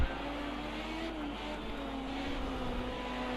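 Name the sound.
Capri race car engine driving, from video game Project Cars 2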